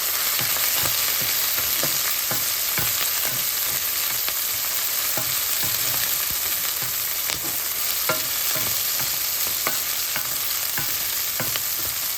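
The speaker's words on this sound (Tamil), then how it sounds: "இப்போ முருங்கையில் வதக்கி நெய்யில் தாளிக்கிறேன்" Continuous frying sizzle of drumsticks in hot ghee with regular scraping stirs of a spoon against the pan, close and steady, no voices.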